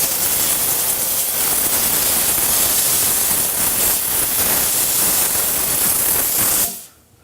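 A steady, loud hiss of steam spraying from a jewelry steamer cleaning solder residue off rings, continuous and close for about seven seconds before cutting off abruptly.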